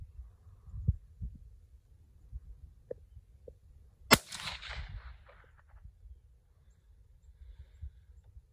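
A single sharp rifle crack from a Tikka firing .17 HMR at a shotgun shell hung on a zip tie, loud and brief with a short ringing tail. Quiet outdoor background and faint thumps sit around it.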